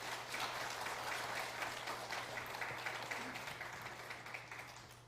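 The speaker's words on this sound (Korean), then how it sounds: "박수 한번 보내주시기 바랍니다" An audience claps steadily at a rally of supporters in Daejeon, a dense, even wash of applause that holds for several seconds and slowly fades, with a low steady hum underneath.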